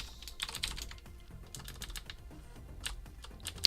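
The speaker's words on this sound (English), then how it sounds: "So you can actually see what I'm typing over here." Keys clatter on a computer keyboard in rapid, irregular bursts of light clicks, fairly quiet and close, with no voices.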